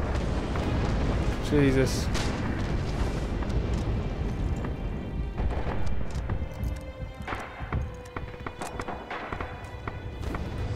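Grenade blast in the World War II shooter Red Orchestra 2, a heavy booming burst near the start followed by rumbling battlefield noise and scattered gunfire, with someone speaking briefly over it.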